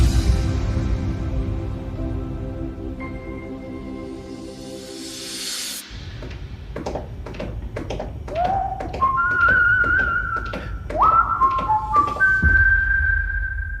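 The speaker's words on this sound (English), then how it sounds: "Why would he be whistling that?" A person whistles the Star Trek theme melody, clear sliding tones that rise and hold in a bright series of phrases, following a swelling orchestral passage that cuts off.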